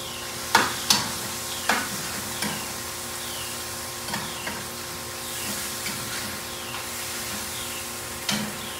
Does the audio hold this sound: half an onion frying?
yes